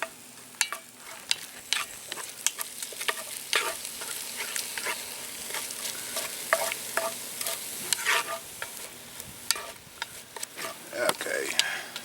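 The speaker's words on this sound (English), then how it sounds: "give this a couple good little stirs here" Rice and chicken sizzle and crackle in a Dutch oven while a spoon stirs through them, with scraping bursts and steady frying under the spoon, close and continuous.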